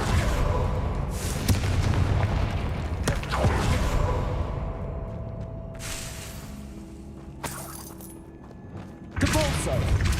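A Confringo blasting spell goes off in Hogwarts Legacy, with booming explosive bursts and rumbling impacts layered over game music and effects, including a sharp blast near the end.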